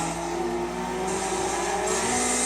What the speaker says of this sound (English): first race of the game, let's get it! Acura Integra, busting.